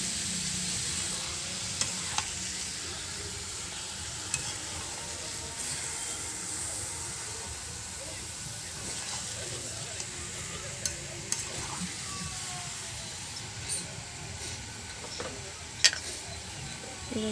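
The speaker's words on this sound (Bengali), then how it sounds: "এবার কষিয়ে নিচ্ছি" Chicken pieces sauté with spices in a pan, giving a soft continuous sizzle with scattered scraping and stirring clicks from a utensil, fairly quiet and steady throughout.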